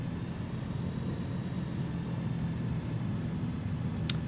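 Steady droning propeller engine of a Rans S6 light aircraft in Microsoft Flight Simulator 2024, revved up during a takeoff run on a dirt strip, loud and continuous with no talk.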